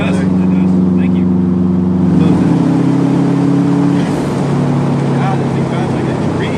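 Car with a 4-cylinder turbo engine driving, a loud steady hum that shifts pitch as the revs change, with cabin road noise and people chatting over it.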